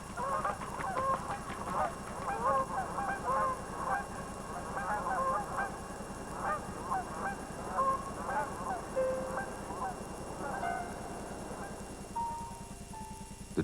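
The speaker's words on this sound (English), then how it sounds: "Ducks and Canada geese gather into great flocks and begin their annual migration through steel gray skies to the south." A flock of Canada geese honks in Yellowstone during the autumn migration south, many overlapping calls in an irregular chorus heard at moderate distance, steady throughout.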